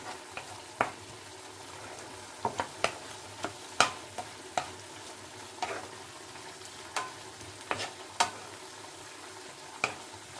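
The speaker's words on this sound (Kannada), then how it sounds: "ಇದನ್ನೊಂದು ಸತಿ ಕ್ಲೀನಾಗಿ ಹಿಂಗೆ ಮಿಕ್ಸ್ ಮಾಡಿಕೊಡ್ಬೇಕಾಗತ್ತೆ" An onion flower stir-fry is stirred in a pan, a spatula scraping and clicking in sharp, irregular ticks over a faint steady sizzle, close by with no talk.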